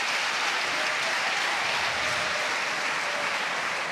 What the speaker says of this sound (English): Everybody applauding apart from 3 people in the New York Atlantics bench